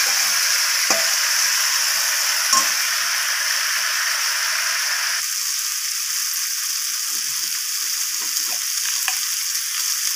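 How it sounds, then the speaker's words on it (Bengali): Steady, loud sizzling of pre-fried cauliflower florets tossed into a hot pan of spiced gravy, with occasional soft scrapes of a spatula stirring through the continuous frying hiss. "এরপর আমি এখানে দিয়ে দিলাম ভেজে রাখা ফুলকপিগুলোকে"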